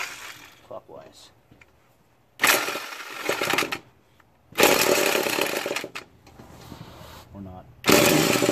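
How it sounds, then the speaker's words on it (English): An impact wrench loosening a bolt fires in three loud bursts of about one to two seconds each, separated by quiet pauses, close by, with faint talk before the first burst. "it's good to use an impact wrench to do this"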